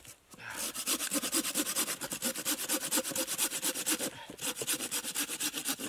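A hand saw cuts wood at an overnight snowy bushcraft camp, rasping in a steady back-and-forth rhythm of quick strokes, close and clear, with one brief pause midway.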